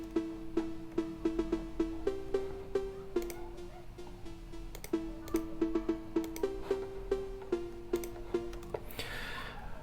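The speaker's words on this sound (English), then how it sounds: "let's start with the cowbell" A bright, metallic cowbell plays a quick repeating phonk house pattern of short hits in a steady groove, with sharp percussive clicks between notes.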